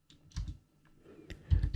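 Someone types an SSH command on a computer keyboard: a few soft, close keystroke clicks in two small clusters with a brief pause between them.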